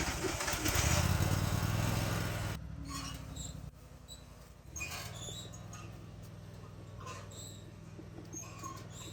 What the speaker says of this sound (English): go ahead and get the lawnmower